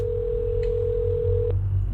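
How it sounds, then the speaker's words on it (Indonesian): A telephone in the Hello Neighbor game sounds a single steady electronic tone for about a second and a half, then cuts off abruptly over a low background rumble. "Telepon siapa lagi nih?"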